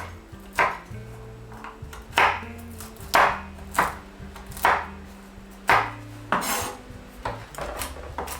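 A knife chops walnuts on a board in sharp, evenly spaced thuds with short scraping rasps between strokes, close and clear.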